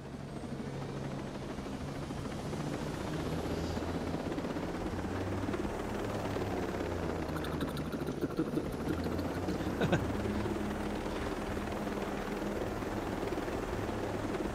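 Helicopter flying in the video game Ghost Recon Breakpoint, a steady close rotor drone with constant beating hum, with occasional faint gunfire and brief talk over it.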